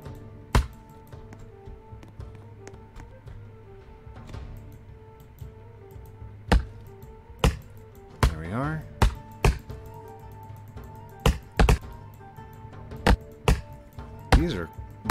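An axe chopping trees in a video game, sharp isolated thwacks at irregular intervals over a quiet ambient bed, with a few brief tonal effects between strikes.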